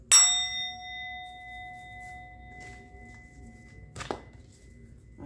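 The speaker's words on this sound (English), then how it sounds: "I'm going to ring the bell." A bell is struck once and rings clear and bright, its tone fading slowly over several seconds, then a second, softer metallic tap comes near the end.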